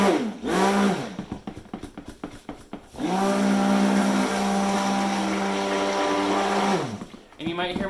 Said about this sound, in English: so I got my stick blender here.